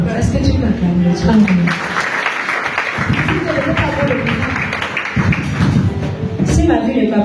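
A church congregation claps and cheers in praise of God, a continuous wash of applause and thumps under voices and a speaker talking in French.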